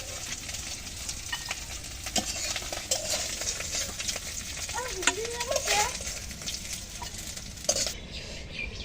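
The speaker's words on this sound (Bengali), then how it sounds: "মাছটা ভালো করে ভেজে নিলাম, এখন তুলে নিচ্ছি।" Puti fish frying in hot oil gives a steady close sizzle, with scraping stirs and light clinks of a utensil against the pan throughout.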